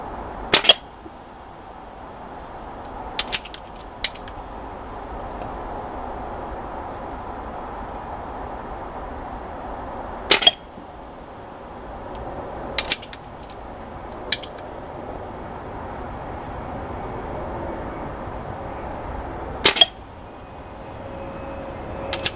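Airgun shots ring out one at a time against a quiet background, each a short sharp crack, some followed quickly by a second click as the pellet strikes the target, spaced several seconds apart.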